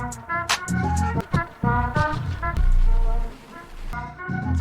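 AI-generated music sample from a Harmonai model run at the higher batch size, a dense, harmonically rich passage with shifting tones and percussive hits, loud and continuous with no talking.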